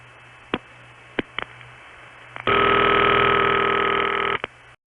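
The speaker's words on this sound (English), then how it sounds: "So there are 3 ticks before we hear a ringtone." Three sharp clicks from a long-distance telephone exchange sound at uneven intervals, then a steady buzzing ringback tone plays for about two seconds before a final click.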